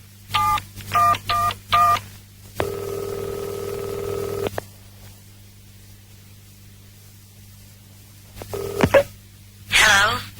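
A telephone keypad sounds a quick run of loud, clear touch-tone beeps, then a steady held tone for about two seconds, then a pause, a few more dial tones and a short burst of noise on the line.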